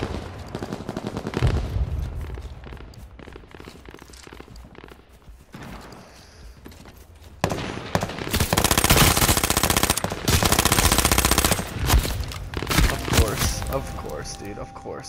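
Rapid bursts of automatic gunfire from the battle royale video game H1Z1, loud and sustained in long stretches of fast repeated shots, with a player talking over parts of it.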